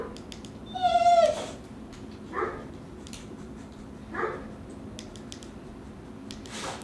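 A dog on its first e-collar training session barks, one sharp harmonic bark near the start followed by two shorter, fainter barks, with quiet gaps between and a soft clatter at the end.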